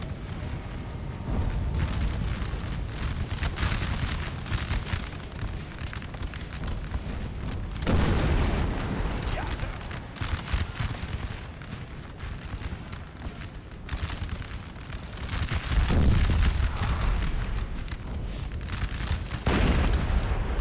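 Artillery in Napoleon Total War firing repeatedly, with heavy booms arriving at irregular intervals over a continuous rumbling battlefield din, some blasts close and loud, others more distant.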